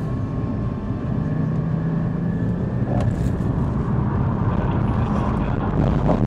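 A Porsche GT4 on its stock exhaust drones steadily at a constant, loud, close level, with a brief sharper burst midway and no pause in the engine note.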